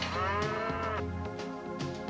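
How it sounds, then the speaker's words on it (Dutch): Cow mooing on a dairy farm with about fifty cows, a long low bellowing moo close by, loud and alone, sliding in pitch before trailing off. "Zomer en winter zorgen de ongeveer 50 koeien voor de melk"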